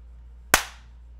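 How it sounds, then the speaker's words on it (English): A single sharp hand clap, loud and close, ringing briefly before fading out in a quiet room. "Alright, I'm gonna clap."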